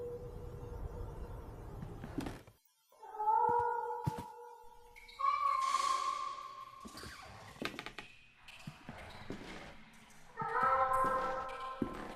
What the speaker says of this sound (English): On top of the chest, there's a black cat.